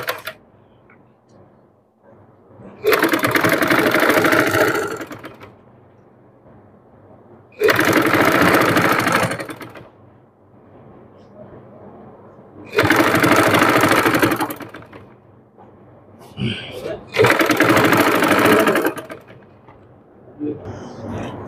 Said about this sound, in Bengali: আমি ধরে এখান থেকে লম্বা লম্বি ভাবে আমি একটি সেলাই দিয়ে নেব, সুন্দর করে চাপ সিলি দিয়ে নেব উপর দিয়ে।